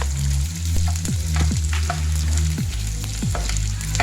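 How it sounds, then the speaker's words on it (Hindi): Edible gum (gond) roasting in hot ghee, a loud, steady sizzle and bubbling crackle close by, broken by repeated scraping stirs in the pan, with no voices. "गोंद भूनने से पहले घी हाई फ्लेम में अच्छे से हीट कर लेंगे और थोड़ा थोड़ा करके गोंद हम भूनते जाएंगे"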